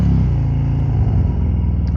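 A 2023 Harley-Davidson Road King Special's engine rumbles loud and close, pulling through a low gear with a throbbing, lumpy idle-like beat.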